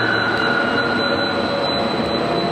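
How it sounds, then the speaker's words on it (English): A loud, steady roar of a large air blower fills an electric car range testing facility, constant and broadband with no pauses. "That's our air blower"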